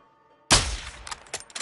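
Gunfire in the Call of Duty: Modern Warfare II campaign: a single loud, close shot bursts out after a quiet start, followed by a string of fainter, rapid cracks and clanks trailing off.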